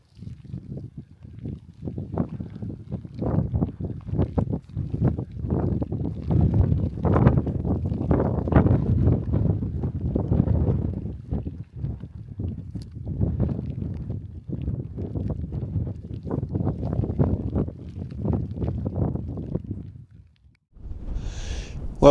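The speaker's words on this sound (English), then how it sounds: "it's really windy, quite strong gusts" Strong gusty wind outdoors by the rocks at Cluther Rocks just after rain buffets the microphone. Deep, uneven rumbling swells rise and fall for about twenty seconds, then drop away briefly at the end.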